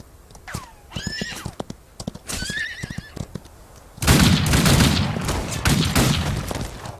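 In a Wild West video game, a horse neighs twice with shrill whinnies over clip-clopping hooves, then a dense burst of loud gunfire and rumbling takes over for the last few seconds.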